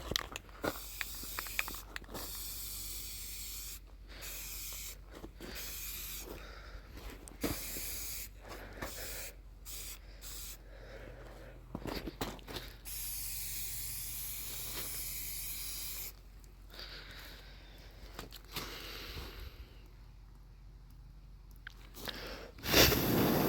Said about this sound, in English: I don't really know enough about spray paint to know if I should be doing this while the metal's wet